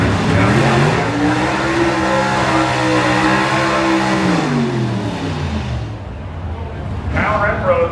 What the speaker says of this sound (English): Here comes Renfro's Rattler 2, which is this beautifully bright yellow Corvette that was supposed to be taking on Randy Bell